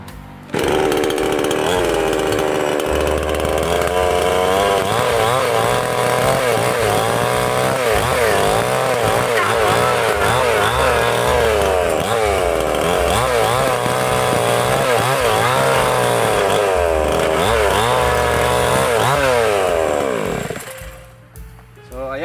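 A small 20-inch mini chainsaw runs steadily and loudly, its engine revving and settling as the throttle is worked, close up and nearly continuous for about twenty seconds before cutting off at the end; faint talk may sit beneath it.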